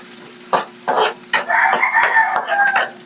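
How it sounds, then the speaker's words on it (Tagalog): Garlic, onion and tomato sautéing in a pan with taro stalks: a spatula scrapes and stirs in several distinct strokes over a steady sizzle, with a rooster crowing faintly in the background. "Igigisa ko siya sa kamatis, bawang, sibuyas."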